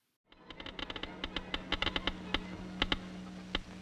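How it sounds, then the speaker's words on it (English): A Geiger counter picks up radioactivity and gives sharp, irregular clicks over a steady low hum, close and clear, with no speech. "The instrument, a Geiger counter, is converting radioactivity into sounds we can hear."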